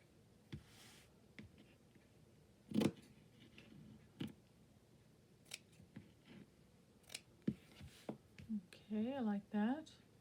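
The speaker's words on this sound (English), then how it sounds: "I'm just going to use my scissors." Scissors snipping a paper doily while decorating journal pages: a handful of scattered, quiet crisp snips and rustles at close range, with a brief burst of speech near the end.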